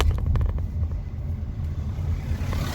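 A Volkswagen Golf rushing past on a street in Alcudia, Mallorca: a loud, close engine rumble with rolling tyre noise that holds steady and then fades slightly.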